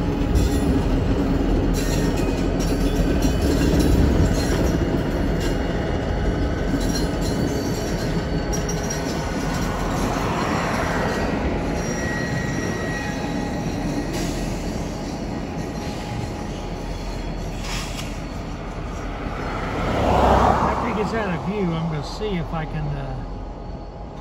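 A Union Pacific local train rolls along a siding at a distribution center, with steady rumbling wheels, clanking and squealing metal, and a louder surge near the end, while a person talks over it.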